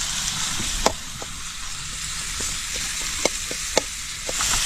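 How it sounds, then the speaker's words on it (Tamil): Tomatoes sizzle steadily in a hot pan while a crab curry cooks, with a constant close, broadband frying hiss and a few sharp clicks of stirring against the pan. "இப்போ நான் தக்காளி போட்டேன்"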